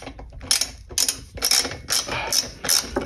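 A ratchet clicks in repeated bursts as it works a bolt loose underneath a Range Rover L322 during suspension repair, a steady rhythm of close, sharp ratcheting strokes with brief pauses between them.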